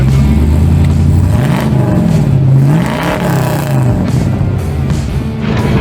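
A Holden Torana at an Australian car meet revs its engine nearby, a loud rumbling idle rising and falling through a couple of throttle blips amid crowd noise.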